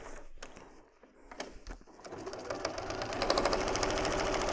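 A sewing machine stitches the final seam of a paper-pieced heart quilt block, its rapid mechanical whirr starting in short bursts and then running steady and close for a couple of seconds.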